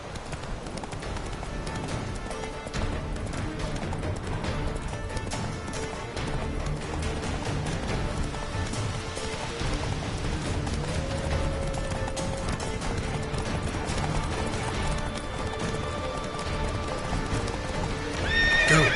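Hooves of Roach, the horse in The Witcher 3, clip-clop in a fast, steady gallop, with an occasional whinny and a continuous game soundtrack underneath; close and even throughout, no talk.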